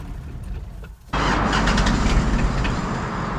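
An old Gen 1 solid-axle Toyota 4Runner in freezing weather, its cold engine loud and close, a brief lull then a sudden steady grinding roar that holds to the end with no catch.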